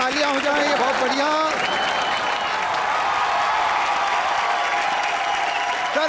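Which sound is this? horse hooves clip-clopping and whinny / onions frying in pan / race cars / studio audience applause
studio audience applause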